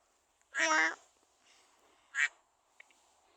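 Cartoon duck quacks from a Roblox obby game, one long raspy quack followed by a shorter one, close and distinct against near silence.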